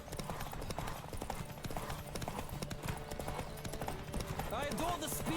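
A horse gallops in The Witcher 3, its hooves beating a fast, even clip-clop up close. Game sounds layer over it, and a voice talks across part of the run.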